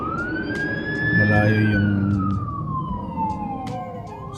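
A fire truck siren wails through city streets in a steady rising and falling sweep, loud and close, with traffic rumble underneath and a person talking over it.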